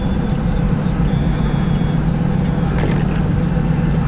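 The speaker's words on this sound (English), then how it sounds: "The truck is slowing down for them." A truck's engine rumbles steadily as it slows on a foggy, rainy road for geese crossing, a close, continuous drone with faint air-brake hisses.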